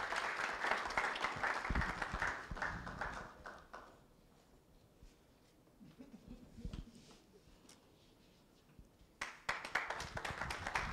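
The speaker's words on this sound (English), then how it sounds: "Please encourage her with another round of applause" Applause at an award ceremony launching the Registrar's Office Excellence Award Scheme. A full round of clapping opens the stretch and fades out, a quieter lull with scattered taps follows, and then a fresh burst of clapping starts near the end.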